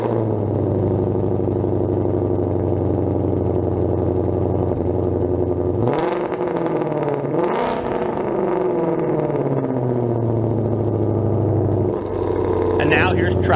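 A 2020-or-later Ford Mustang GT500 in normal exhaust mode with an MBRP resonator delete: a deep, steady idle rumble, then two sharp throttle blips that rise and fall before it settles back to idle, loud and close.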